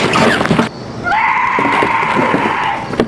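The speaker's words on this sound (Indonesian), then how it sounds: "Mendengar jeritan di dalam rumah" Loud, shrill screaming inside a darkened house, a sharp cry at the start followed by a long sustained wail that carries on to the end.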